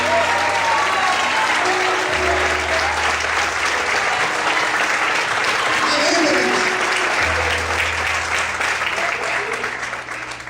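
A church congregation applauds loudly and steadily throughout, a dense wash of clapping with a low musical hum underneath.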